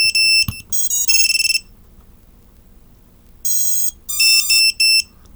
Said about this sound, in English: And now it's done beeping.